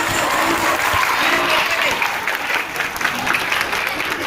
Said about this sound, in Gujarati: નીલમબેનને જોરદાર તાળીઓ